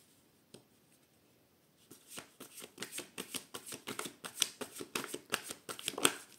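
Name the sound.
handling oracle cards for a reading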